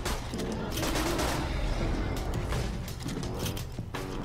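Rapid, continuous gunfire from guns in the video game Borderlands 2, with dense bursts and repeated shots running throughout at steady high volume, faint voices buried beneath.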